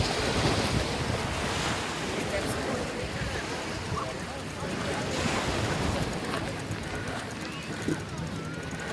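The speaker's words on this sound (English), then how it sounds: "It's tide surf's coming in," Ocean surf rolling in steadily on a Sanibel Island beach at high tide, a continuous broadband wash of waves with wind buffeting the microphone throughout.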